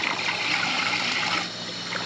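Steady trickling water runs continuously, fairly close, easing slightly toward the end; no voices.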